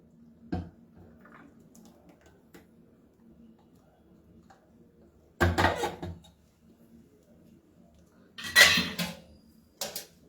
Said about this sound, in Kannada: ಈಗ ಗೊಜ್ಜು ಸಹ ಸರ್ವಿಂಗ್ ಬೌಲ್ಗೆ ಹಾಕೋಣ